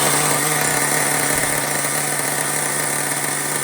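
A nitro engine in an HPI Savage XL 5.9 RC truck runs steadily at a loud, even idle, with a continuous buzzing drone and no talk.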